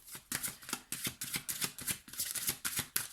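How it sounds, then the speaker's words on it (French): Tarot cards are shuffled in a quick, crisp rhythm of riffling bursts, with hard taps of the deck close by and no voices. "j'ai tapé fort les cartes là"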